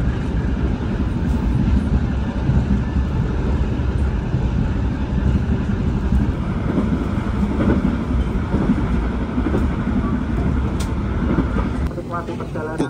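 The Jakarta–Blitar night passenger train running on rails, a loud, steady rumble with rattling and clatter that continues unbroken throughout.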